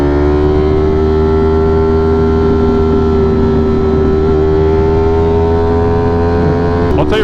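Motorcycle stuck in first gear droning at high, nearly constant revs on the highway, a strained steady whine with wind rush throughout and a short clatter at the very end; no speech.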